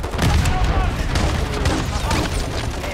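Grenade explosions boom in the Call of Duty Modern Warfare III game, with a dense rumbling barrage of blasts and gunfire crackle that runs continuously and loud under voices.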